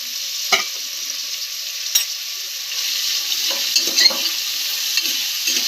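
Thinly sliced large onions fry in a pan for mutton curry, sizzling steadily while a spoon stirs and scrapes them in several quick, close strokes.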